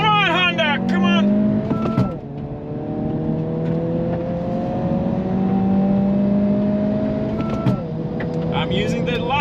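A 2022 Honda Civic Si and a VW Jetta GLI run a drag race, their engines climbing through gears with rising whines and shift breaks, heard from inside with faint voices in the background.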